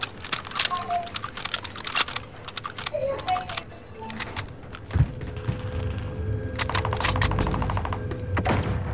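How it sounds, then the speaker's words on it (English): Gunfire in a prison shootout video game, rapid sharp cracks in bursts throughout, some distant, with someone talking over them. "getting shot from the other side of prison"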